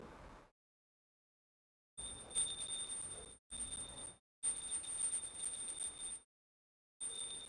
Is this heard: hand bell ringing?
yes